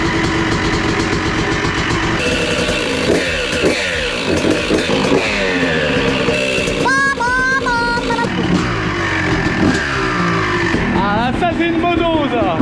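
A 2021 Honda CRF with a single-cylinder engine starts and revs hard, the loud, close motor rising and falling in repeated bursts through most of the stretch, with talk over parts of it.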